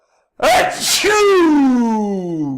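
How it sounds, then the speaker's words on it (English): A person sneezes once, loud and close, with a sharp intake of breath followed by a long, drawn-out voiced burst that trails off, and nothing else around it. "I'm going to sneeze."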